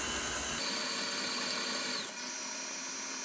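A steady electric mixer whirs loudly as it beats cookie dough until creamed, then shifts to a slightly different pitch partway through; no one talks.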